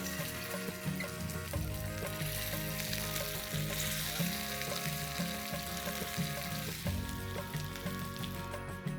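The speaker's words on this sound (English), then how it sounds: "let's quickly fry these tikkis" Potato tikkis pan frying in hot oil, producing a steady loud sizzle throughout with faint stirring noises, heard up close with no talk.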